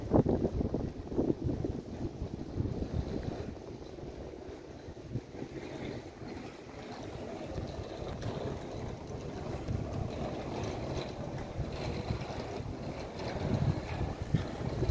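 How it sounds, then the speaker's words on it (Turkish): A newly restored passenger ferry out on the water near Büyükada, İstanbul, heard as a steady low engine and hull rumble with wind buffeting the microphone and a constant wash of water, loud and continuous throughout. "yeni restore edilmiş, yeni tadilat görmüş ve sonra yeniden hizmete açılmış bir vapur."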